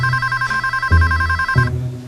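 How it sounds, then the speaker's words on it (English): An old-style telephone bell rings steadily for under two seconds, loud and close, with a low hum running underneath. "Why aren't you answering the phone?"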